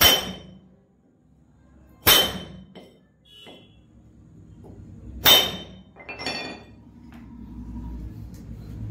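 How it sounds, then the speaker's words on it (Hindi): Hammer blows striking chainsaw chain links while shortening a chainsaw chain at home, three sharp metallic strikes spread apart with lighter clinks and taps between them, close and loud against a quiet background. "इनको थड़ देना है, हथौड़ी से या छेनी से कुछ भी हो उससे आपको थड़ देना है"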